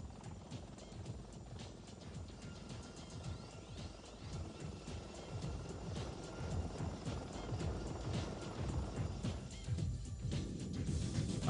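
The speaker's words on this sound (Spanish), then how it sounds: "era el helicóptero de asalto aéreo más importante del US Army" A Bell UH-1 Huey military assault helicopter in flight, a continuous loud rotor and engine roar that holds steady and swells slightly toward the end.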